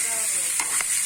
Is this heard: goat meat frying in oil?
yes